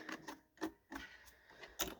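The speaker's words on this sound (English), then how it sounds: "We'll put it on our sewing machine." Bursts of mechanical rattling from a sewing machine run in short, uneven spurts with brief pauses between, close and fairly quiet.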